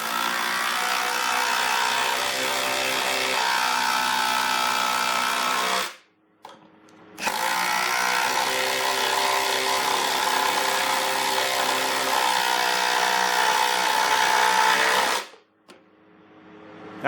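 A cordless impact driver drives big leg bolts in three long, loud, continuous bursts of buzzing hammering, with short silent breaks between them.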